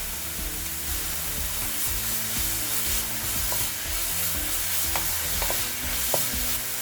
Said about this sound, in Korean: 김치를 볶아줍니다.